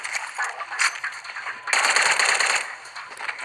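Rapid sci-fi blaster gunfire from the N.O.V.A.L Legacy spaceship video game, loud, dense bursts of shots that intensify partway through, with no talking.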